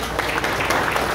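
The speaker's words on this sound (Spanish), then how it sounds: "también un fuerte aplauso" Audience applause at a tourism press association gathering, a steady wash of clapping hands with scattered sharper claps, moderately loud and continuous over the brief moment.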